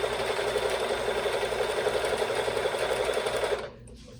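A sewing machine stitches a quilt border along a black fabric stripe, its steady, fast mechanical whir running loud and close for about three and a half seconds before stopping abruptly.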